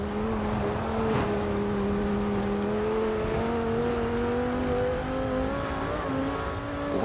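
A stock 2009 Audi RS 6 in Forza Horizon 4 holds a loud, steady engine drone with strong harmonic whine, pitch creeping upward slightly as revs build, continuous throughout.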